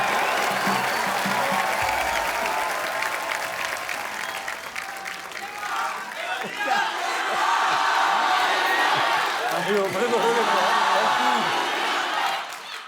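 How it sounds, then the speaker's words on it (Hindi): A TV comedy studio audience claps loudly for world cup champions, with sustained applause mixed with cheers and whoops, and voices calling out over the crowd as the clapping rises again toward the end. "जोरदार तालियां हमारे चैंपियंस के लिए।"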